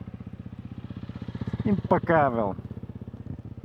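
A Honda CRF300L motorcycle engine idles close by with a steady, rapid single-cylinder thumping pulse, while someone speaks briefly over it midway.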